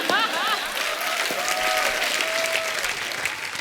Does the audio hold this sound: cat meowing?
no